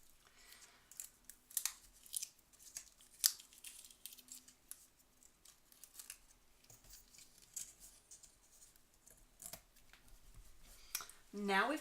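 Scissors snipping through gold foil paper on a cutting mat, a series of quiet, scattered crisp cuts and crinkles with soft handling noises between them, ending in a brighter rustle.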